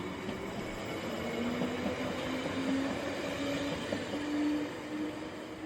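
A London Underground Hammersmith and City line train rumbles steadily and fairly quietly, with a drawn-out wheel squeal rising and fading over its running noise.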